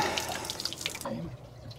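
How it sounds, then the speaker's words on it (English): Water gushes and splashes out of an RV hot water tank with the anode rod removed, a close, uneven, bubbly pour that stops abruptly partway through, leaving a faint trickle. "I'm going to let the hot water tank finish draining"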